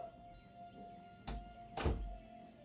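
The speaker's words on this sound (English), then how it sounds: "Let me close the door." An indoor door at home is pushed shut, giving two dull thumps about half a second apart, close and moderately loud in a quiet room.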